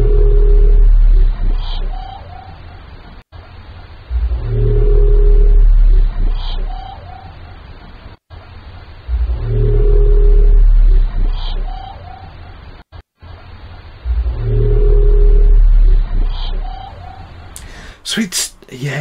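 Strange underwater sound from the Mariana Trench, the Western Pacific Biotwang, a low deep moan followed by a metallic twanging tone, repeating about four times in a steady cycle, loud and alone.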